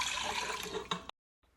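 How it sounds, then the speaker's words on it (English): Water poured into an Instant Pot pressure cooker, a short splashing stream for about a second that cuts off abruptly, followed by near silence. "In an Instant Pot, start with 3½ cups of water."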